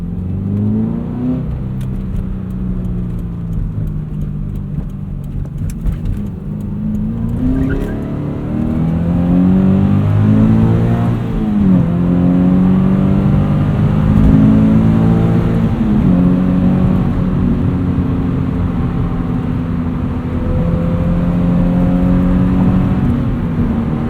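Subaru BRZ sports car engine droning steadily from the driver's seat, with pitch rising and falling through gear changes and throttle, loud and continuous throughout with no talking.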